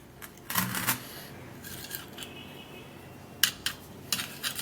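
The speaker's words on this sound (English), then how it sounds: "I'm gonna stir and mix it very well" Homemade black hair cream being stirred and mixed in a container, soft scraping and clinking taps in short irregular bursts, close and fairly quiet with no talking.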